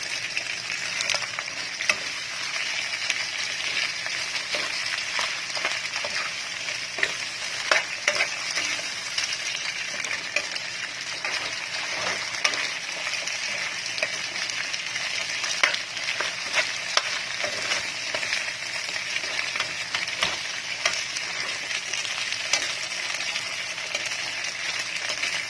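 Shrimp paste (bagoong) sizzles and fries steadily in a pan for Bicol Express, a continuous close hiss with scattered crackles and occasional stirring scrapes throughout, no voices.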